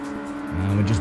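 A Ford Mustang race car engine in the racing game Ford Racing, revving loud and steady before a deeper, stronger drone rises halfway through, with a faint tire squeal under it.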